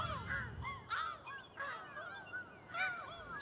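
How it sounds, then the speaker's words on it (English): Seagulls at sea in the video game Burly Men at Sea cry out in a cluster of overlapping squawks and caws, repeating irregularly over a soft background. "There's some seagulls."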